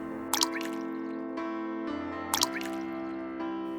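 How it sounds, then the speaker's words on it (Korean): Water drips inside a cave, with a few sharp, close drops landing over a low steady hum, separated by quiet gaps. "물소리다. 그리 멀지 않은 곳에서 물소리가 들려왔다."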